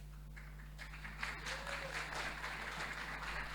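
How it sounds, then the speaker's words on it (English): Audience applause during a conference talk in a hall: a spread of soft, steady clapping rising over a constant electrical hum, moderately distant and fairly even throughout. "I take the applause"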